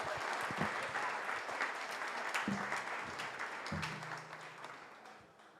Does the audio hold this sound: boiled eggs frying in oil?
no